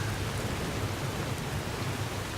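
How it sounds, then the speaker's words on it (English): Steady, dense hiss of rain falling on a surface in the video game Skyrim Special Edition, even and continuous with no voices or other sounds standing out. "Rain again."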